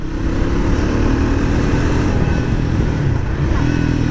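A Triumph Speed 400 motorcycle rides through city traffic, its engine giving a loud, continuous rumble with steady road and wind noise throughout.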